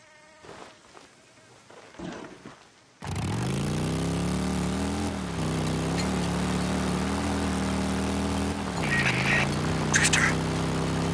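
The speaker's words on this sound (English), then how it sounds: "One of our helos is heading toward your position now." A helicopter in the Days Gone video game approaches, its rotor and engine drone starting abruptly and holding loud and steady with slight pitch shifts, after a short stretch of talk.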